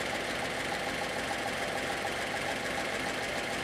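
A steady, low engine hum runs continuously at moderate distance, an even idling drone with a faint rhythmic knock and no voices.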